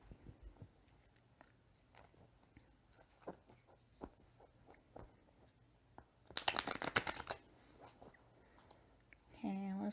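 Tarot cards being shuffled: soft scattered flicks and rustles, then a dense riffling burst near the end, with someone talking quietly in between.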